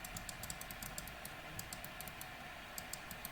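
A computer mouse clicks again and again in short, sharp, irregular bursts, quiet and close against a faint steady background hum, with no talking.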